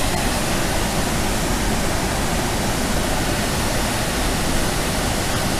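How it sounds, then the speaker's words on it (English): Waterfall in the Porcupine Mountains of Michigan, a steady, loud, close roar of rushing water that holds even and unbroken throughout, with no voices. "Watch waterfalls forever, man."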